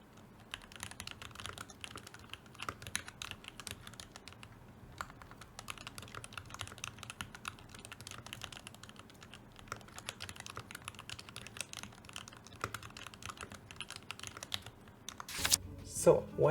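Fingers type continuously on a keyboard fitted with TKC Banana Split linear switches, producing quiet, dense, slightly clicky keystrokes in close, steady bursts with a few brief pauses, and a louder knock near the end.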